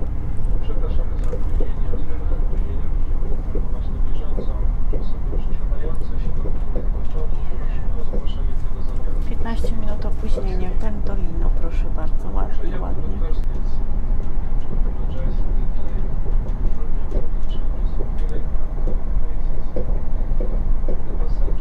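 Steady loud interior rumble of a Pendolino ED250 express train in motion, a continuous low drone with rail clatter and a voice speaking faintly over it throughout.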